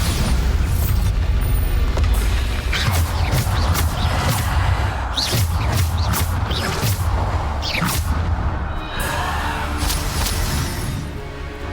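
Bombarda explosion spells in Hogwarts Legacy give deep, loud booms and crashing bursts with whooshing debris, repeated blasts over dense game combat noise and music.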